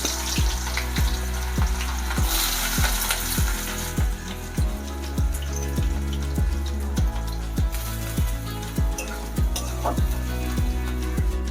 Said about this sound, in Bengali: এবার পেঁয়াজগুলো তেলের মধ্যে দিয়ে দেবো